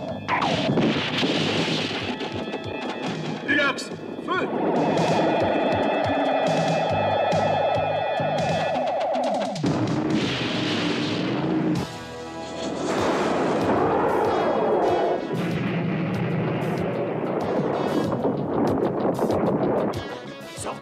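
A cartoon laser cannon fires in a long, loud, sustained blast with a wavering electronic tone. A second, shorter whooshing burst follows after a brief break. There is no talking.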